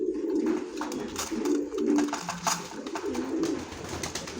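Several pigeons coo close by, low rolling calls overlapping in a continuous murmur, with light rustling and scratching in the background.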